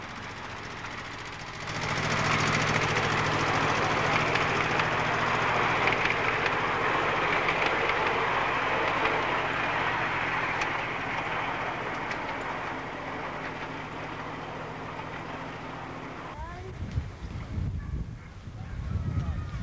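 A miniature railway train runs along a short demonstration track that gives visitors rides, a steady rolling rumble with rhythmic clatter that fades out near the end while a voice speaks.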